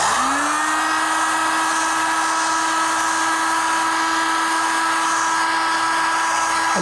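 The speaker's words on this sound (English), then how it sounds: "Got my heat gun." A heat gun warms a warped Briggs and Stratton mower carburetor. It starts with a quick rising whine, then holds a loud, steady fan whir with a high tonal hum, without pause and with no voices.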